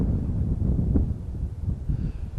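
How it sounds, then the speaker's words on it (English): Wind rushes and buffets the microphone on an exposed mountain-top lookout at Observation Point in Zion National Park, a low, rough, fluctuating roar with gusts and no one speaking. "There's a lot of wind here."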